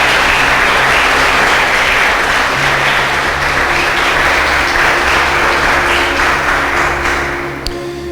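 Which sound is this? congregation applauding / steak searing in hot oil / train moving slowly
congregation applauding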